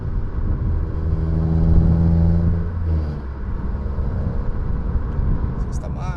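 A Renault Sandero RS with a cold air intake and remapped engine revs high in fifth gear, its intake and exhaust droning loud and steady, then easing off as the pitch drops, with a voice faintly present.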